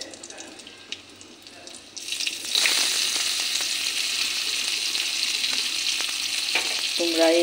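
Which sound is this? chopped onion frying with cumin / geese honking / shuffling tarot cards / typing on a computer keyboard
chopped onion frying with cumin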